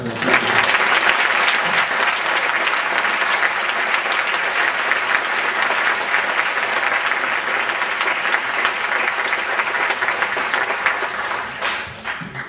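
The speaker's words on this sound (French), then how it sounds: "je vous propose d'applaudir Antonella" An audience at a forum on the evolution of consciousness applauds warmly in a long, steady, dense burst of clapping that keeps its level and then begins to thin out near the end.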